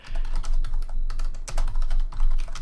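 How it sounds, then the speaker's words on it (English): Clicky typing on a computer keyboard during a Heroes of the Storm tournament broadcast, fast irregular keystrokes close and continuous over a low background hum. "And clickety click click goes your keyboard."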